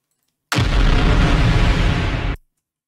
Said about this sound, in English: I'll just take another explosion sample that we recorded.